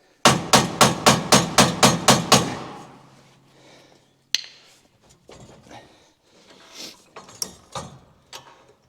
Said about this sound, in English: the hammer or the rubber mallet is your friend